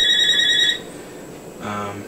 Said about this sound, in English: Sorry about the phone ringing.